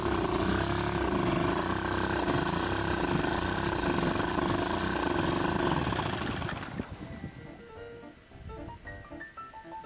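A Yamaha 5 outboard motor runs loudly and steadily with its cover off, a dense continuous engine roar that cuts off around six and a half seconds, leaving quiet clicks and faint handling noises.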